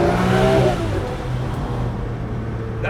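A Lamborghini Murcielago's engine revs hard and accelerates, a loud throaty surge at the start that quickly drops away into a fading, lower drone as the car pulls off.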